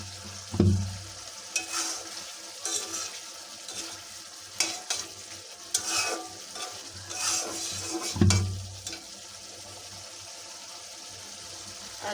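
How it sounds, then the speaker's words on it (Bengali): Meat stir-fries with ginger, garlic, chili and garam masala in a pan: a steady sizzle under repeated scraping stirs, with a couple of sharp knocks of the spoon against the pan. "এই যে আমার মাংসটা কষানো হচ্ছে"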